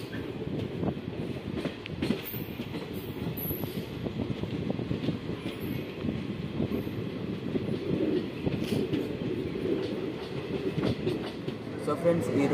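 The Kakatiya Express pulls out of Nekkonda railway station, a continuous rumble of wheels and carriages with rhythmic clatter, steady and fairly close throughout.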